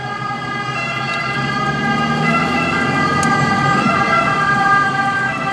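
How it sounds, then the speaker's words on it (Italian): An ambulance siren wails steadily and loudly in a street, holding a sustained, sweeping tone over rumbling road traffic, close and unbroken throughout. "Mi dispiace per l'ambulanza che non credo che riesca a passare qua."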